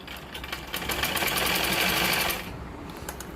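A sewing machine runs a straight stitch to attach a shape belt to a blouse lining, a close, fast, even mechanical whirr lasting about two seconds before it stops, followed by faint ticking.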